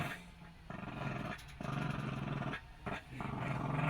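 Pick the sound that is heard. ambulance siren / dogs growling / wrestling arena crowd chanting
dogs growling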